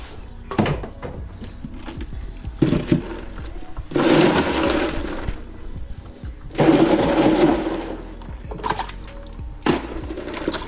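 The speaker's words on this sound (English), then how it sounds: "Now put a bit of water to the ice." Water poured onto ice comes in two sustained, splashing bursts, with quieter knocks and clatter between them and no talking.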